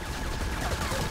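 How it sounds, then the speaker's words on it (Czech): Rapid gunfire from the video game Brothers, a dense fusillade of overlapping shots that stays loud and continuous throughout the short moment with no pauses. "Kdo střílí?"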